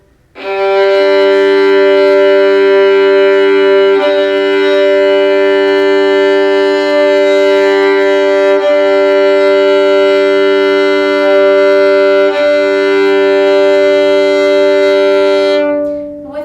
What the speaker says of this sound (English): here I'll do a couple of long bows, this time with the open G and open D